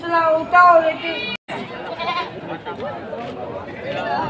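Boer goats bleating on a farm in Batangas, a few nasal calls near the start, then a busy mix of voices and animal noise with people talking throughout.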